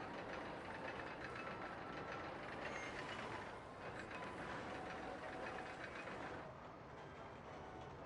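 A roller coaster train in OpenRCT2 rolls along its track, a steady broadband rumble with rhythmic clatter that stays loud and continuous throughout, fading slightly near the end.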